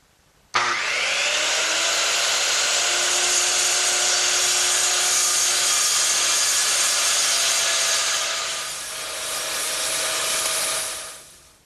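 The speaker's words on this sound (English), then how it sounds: "I'm going to use my circular saw to take out that material" A circular saw cuts through hardboard on a workbench build, with a sharp start, then a steady loud whining cut that dips briefly near the end and spins down.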